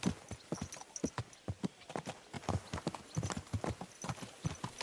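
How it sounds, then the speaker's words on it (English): Hooves clip-clop at an easy riding pace in Kingdom Come Deliverance 2, a steady close rhythm of sharp knocks with a faint horse whinny at the start. "Is this your first time riding a horse, you Sky?"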